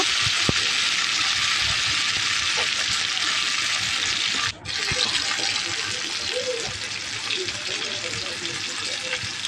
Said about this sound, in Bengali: পটলের ভেতরের যে মশলাটুকু থাকে ওটা দেখো তেলের মধ্যে দিয়ে দিলাম এবারে থেকে একটু খুন্তি দিয়ে ভালো করে নেড়ে দেব